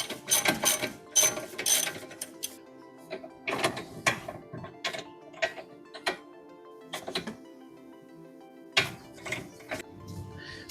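A ratchet clicks in quick bursts of strokes, close and crisp, as it loosens a rear suspension bolt on a Lexus NX or Toyota RAV4, with pauses between bursts.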